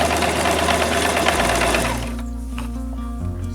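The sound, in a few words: sewing machine stitching curtain fabric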